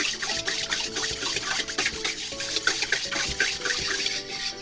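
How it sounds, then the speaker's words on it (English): A whisk beats salad oil into a dressing to emulsify it, giving a steady, rapid, wet scraping and swishing against the bowl that continues throughout with no talking. "You want to add it slowly at a time while you whisk so that it emulsifies the dressing."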